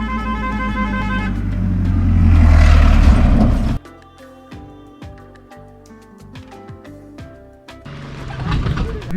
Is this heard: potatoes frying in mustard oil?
no